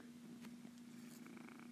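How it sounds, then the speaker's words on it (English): Charlie the cat purring close to the microphone, a steady low continuous rumble running throughout with no talk. "As you hear his purring in the microphone."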